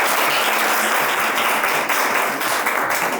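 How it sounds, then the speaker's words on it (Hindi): A crowd at a motivational talk gives a girl loud, continuous applause, with dense clapping at steady intensity from start to finish. "तालियां बजाओ भाई इस बच्ची की।"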